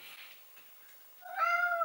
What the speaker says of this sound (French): Et Holden va miauler dans quelques secondes.